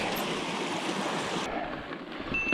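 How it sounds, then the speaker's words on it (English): A big creek beside a mountain trail rushes and flows in a steady, close, continuous wash of water that stays loud throughout, with no voices. "Back at the big creek."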